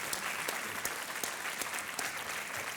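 Studio audience applauding on a televised quiz show, a steady dense patter of many hands clapping close by for the whole stretch, with no talk over it.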